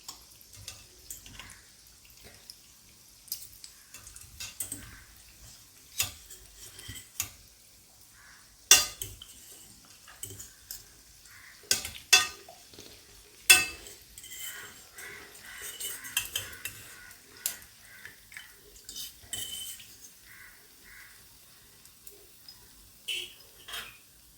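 Scattered metal clinks and scrapes of a ladle in a pan of hot oil as pieces of fried shakkar para are lifted out one by one, faint oil bubbling underneath, with brief quiet gaps between the clatters.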